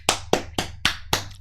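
Airplane passengers applaud with sharp, evenly spaced claps, about six in quick rhythm, close and distinct against a quiet background.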